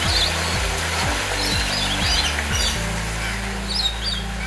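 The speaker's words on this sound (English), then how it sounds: "there's literally birds everywhere." Many birds call and chirp at a zoo, a dense layer of tweets and squawks throughout, with low rhythmic rumbling underneath.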